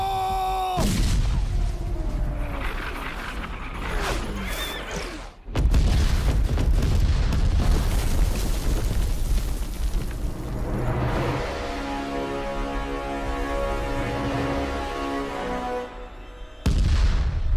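Cannon artillery booms and explosions fill a battle scene from a 2019 Panipat historical war film, several heavy blasts with rumbling aftermath and crackling debris, loud and layered with a sustained roaring din.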